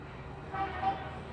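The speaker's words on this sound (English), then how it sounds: "Now, why are you honking?" A car horn gives two quick, short honks close by, with little else around them.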